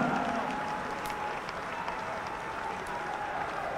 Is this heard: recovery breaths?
no